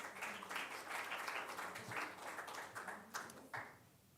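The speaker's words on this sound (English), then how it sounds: "So a round of applause for Sara." An audience at an EIT RawMaterials awareness day claps for a speaker: quiet, fairly distant applause with an uneven rhythm, thinning into a few final claps.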